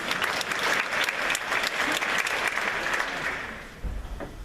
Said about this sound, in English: It is so nice to perform for people who applaud for me.